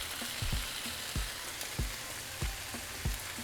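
Salsa added to a hot pan for crispy shredded beef tacos, with broth nearby: a steady soft sizzle with several distinct thumping stirs or spoon knocks at irregular intervals, fairly quiet and close.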